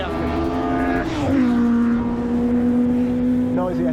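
A noisy Ford Escort rally car engine, freshly rebuilt after winter, runs close by with a humming droning tone that shifts pitch as the revs drop and settle into a steady idle, with voices talking over it.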